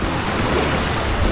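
Ocean waves roll in at Kalanggaman Island off Palompon, Leyte, a steady broad wash of surf with a low rumble building toward the end, close and loud, no voices.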